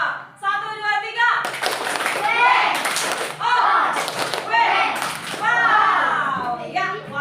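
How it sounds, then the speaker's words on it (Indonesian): A primary school class claps hands together in several loud bursts, separated by children's voices calling out and chanting in unison between the rounds of clapping. "Tepuk tangan dulu."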